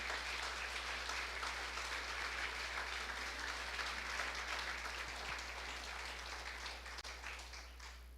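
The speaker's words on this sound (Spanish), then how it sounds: "Dale un aplauso al Espíritu Santo en esta mañana." A church congregation applauding during a Spanish-language service, a dense continuous wash of clapping held at an even level with a faint steady hum underneath.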